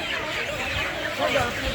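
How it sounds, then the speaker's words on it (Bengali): Chickens cluck amid a sprawling early-morning wholesale poultry market beside Khadya Bhavan in Kolkata's New Market. The clucking is steady but blended into busy crowd noise and voices. "কি বিশাল মার্কেট মুরগির।"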